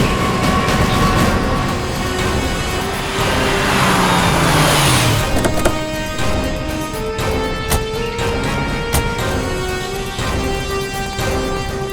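A car reversing off a roadside where it had left the road, steady engine and road noise with a sweeping pitch shift midway, accompanied by music-like tonal layers, with no talking.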